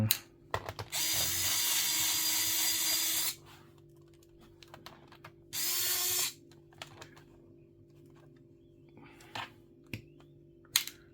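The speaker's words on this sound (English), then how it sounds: "I'm using a Torx bit on Phillips screws" A power driver fitted with a Torx bit whirs in two bursts, the first about two seconds long and the second shorter, backing Phillips screws out of a Lenovo IdeaPad 3 laptop, followed by light clicks and handling taps.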